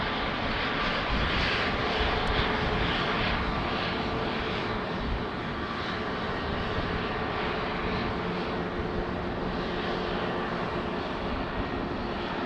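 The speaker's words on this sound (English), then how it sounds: "Before the triple takes off, this SAS Airbus will." SAS Airbus jet taking off at Amsterdam Schiphol runway 36L, a loud continuous engine roar sustained evenly throughout from a nearby spotting point.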